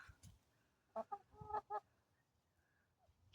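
Chickens in an urban backyard enclosure give a quick cluster of clucks near the middle, a few short bursts close together over quiet background.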